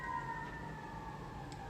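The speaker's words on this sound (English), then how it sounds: "sorry about all the sirens right now" Emergency vehicle sirens hold a steady, faint tone in the distance, one continuous wail with no voices over it.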